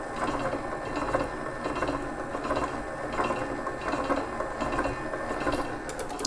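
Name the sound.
stand mixer mixing cake batter with flour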